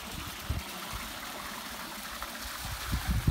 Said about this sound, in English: And that water feature's so nice.